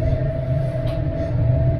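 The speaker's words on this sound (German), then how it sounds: "Dieser Zug, das ist ein Bierzug." Train running on rails through hilly countryside, heard from inside as a steady loud rumble with a constant tonal hum, no distinct clacks, continuous throughout.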